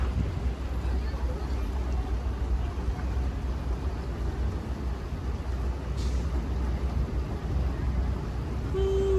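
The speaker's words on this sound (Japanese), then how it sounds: "この船電動ですね" A small electric boat gliding along a canal in Zhujiajiao water town, Shanghai, with no engine noise: a steady low wash of water and wind rumble throughout, with faint voices in the background.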